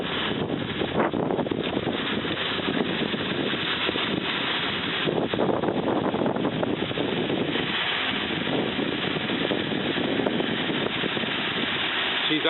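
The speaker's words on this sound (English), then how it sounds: "She's idling pretty nice." A stock flathead V8 in a 1935 Ford 3-Window Coupe idles with a steady, even rumble that stays level and unbroken, blended with wind noise across the microphone.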